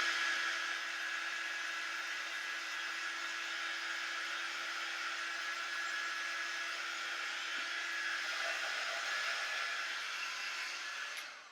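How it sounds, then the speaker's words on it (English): A heat tool blows hot air steadily to dry a craft transfer, a continuous whirring hiss that holds even and fairly close for the whole stretch before cutting off at the end. "So I'm just going to take the heat tool over there."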